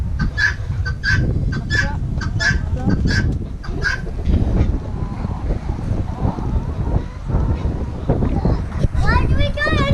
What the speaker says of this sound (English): the guinea fowl being noisy as usual